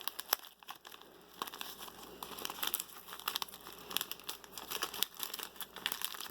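A black tea bag packet being torn open at its tear notch, with close crinkling and rustling of the wrapper in uneven bursts.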